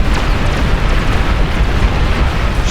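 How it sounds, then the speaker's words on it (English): Tumbleweed unit blowing up in the strategy game Beyond All Reason, a loud, dense rumbling explosion amid continuous battle chaos, sustained with heavy low-end roar throughout. "Tumbleweed explosion."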